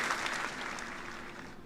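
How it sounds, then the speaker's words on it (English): Live-show audience applause at a stand-up performance, a brief steady wash of clapping at low level with no talk over it. "Please, applause."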